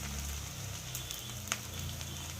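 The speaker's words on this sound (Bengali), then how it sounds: "পেঁয়াজটা লাল লাল করে ভাজা হয়ে গেছে" Onions fry in a pan, browned to a reddish colour, with a quiet, steady sizzle and a few faint clicks of a utensil, no talking.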